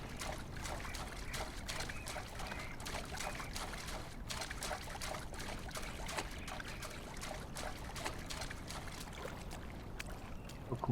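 Steady splashing of feet running through shallow water outdoors near Fort Crosby, Talkeetna, Alaska, a continuous dense trickling and sloshing with no talk.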